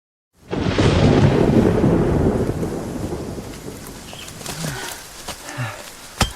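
Thunderstorm with rain, a loud rolling rumble of thunder that swells and slowly fades over steady rainfall, with scattered sharper raindrop spatters toward the end.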